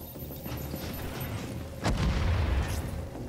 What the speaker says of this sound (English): Why is it like constant grenades?